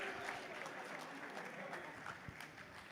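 An audience at an OG movie blockbuster celebration event applauding, a steady wash of clapping from a crowd, faint and somewhat distant, with a voice speaking over it.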